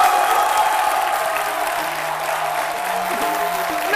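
A studio audience on a midday television show claps loudly and steadily for a musician's entrance, as a dense, continuous wash of applause with a sustained musical tone underneath.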